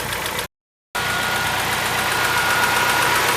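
Car engine idling at working temperature with the radiator cooling fan running, a steady, loud mechanical whir and hum that continues throughout after a brief dropout.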